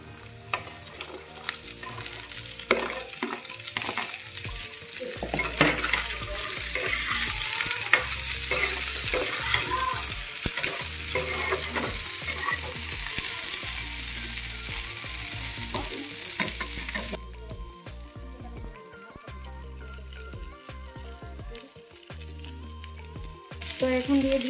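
Cut beans and lightly fried potatoes stirring and frying together in a pan, a steady close sizzle with repeated scraping strokes of a spatula, quieter toward the end.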